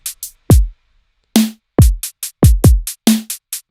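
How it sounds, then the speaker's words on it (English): Drum samples are auditioned one at a time in FL Studio while choosing a hi-hat. Short crisp ticks are mixed with heavier hits that have a deep booming low end, each shot separate and loud against silence. "Figure out which hi-hat sounds the best."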